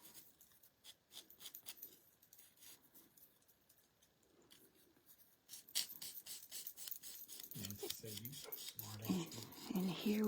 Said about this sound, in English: I'm just using a 180 grit file.